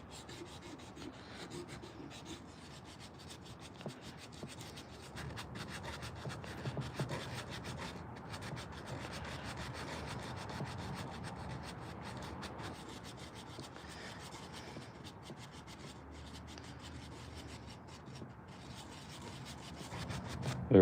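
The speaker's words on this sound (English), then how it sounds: "It'll be really cool once it gets totally sanded down." Scraping of sandpaper on a hand-carved wooden spoon, a steady dry rubbing that continues with little pause, close and fairly quiet, with no voices.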